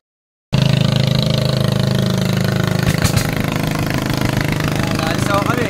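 Motorboat engine running steadily and loud throughout after a brief silent start, a constant low droning hum with occasional knocks, on a boat trip carrying tiger prawn juveniles.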